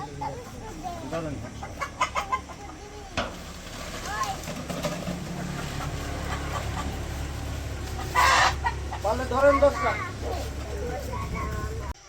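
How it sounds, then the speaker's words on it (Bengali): Village chickens, including a rooster, cluck and call repeatedly, close and fairly loud, with occasional crowing among them, while people talk intermittently over the flock. "তো মুরগি 40 পিস দিয়ে দিলাম।"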